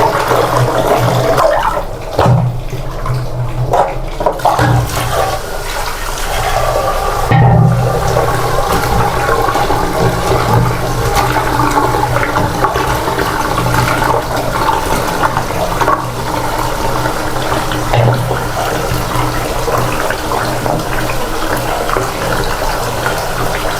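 Tap water runs steadily while leafy greens are washed in a home kitchen. The rushing, splashing stream stays fairly loud and continuous throughout, with no talking.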